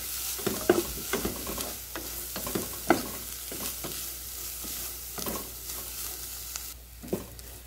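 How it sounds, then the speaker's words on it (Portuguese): Carrot and rice sautéing in a pan, a close continuous sizzle under repeated rhythmic scraping and clacking strokes of a spoon against the pan as the mixture is stirred, with no talking. "Agora eu vou misturar, né? Misturar bem aqui, deixar refogar um pouco aqui junto"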